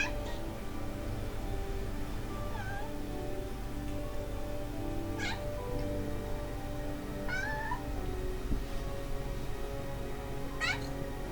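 A cat meows several times with rising, wavering cries spaced a few seconds apart, heard against a steady low hum in an indoor room in Hollsopple, Pennsylvania.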